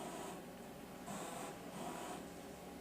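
A 1982 home computer printer prints: a steady mechanical whir and buzz with rhythmic bursts of print-head chatter, continuous and fairly quiet.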